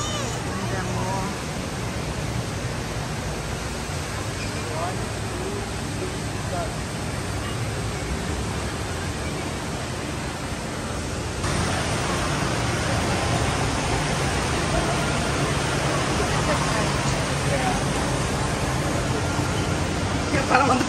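Steady broadband rush of an indoor waterfall inside a Singapore building, a constant wash of falling water that swells slightly louder midway, with a murmur of crowd chatter mixed underneath.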